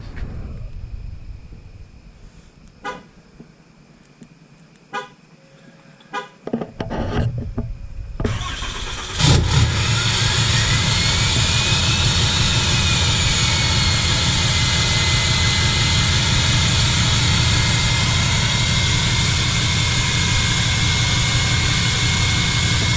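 Several sharp clicks and a cranking whir, then a 2019 Ram pickup truck engine catches and roars, settling into a loud, steady, jet-like drone close by.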